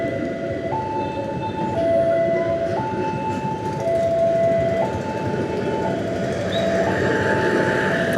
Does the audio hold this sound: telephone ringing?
no